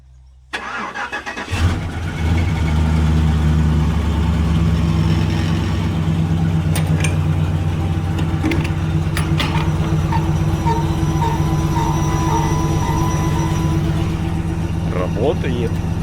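ZIL truck fitted with an American V8 engine cranks briefly and fires up, then settles into a loud, steady rumbling idle that runs on without break, with a voice speaking over it.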